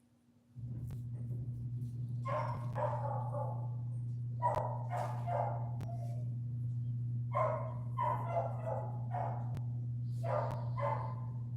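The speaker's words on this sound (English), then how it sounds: "Don't mind that barking in the background. That's just my dog." A dog barks in short clustered bursts of two or three, muffled as if behind a closed door, over a steady low electrical hum in an indoor room.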